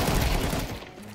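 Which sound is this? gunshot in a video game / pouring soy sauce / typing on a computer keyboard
gunshot in a video game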